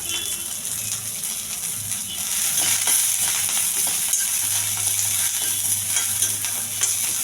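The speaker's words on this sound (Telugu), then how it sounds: "కొద్దిగా ఆయిలు, ఉల్లిపాయలు బాగా వేగించాలి." Onions and curry leaves frying in a little oil, a loud, dense, steady sizzling hiss up close with a few faint stirring taps and a low background hum, no voices.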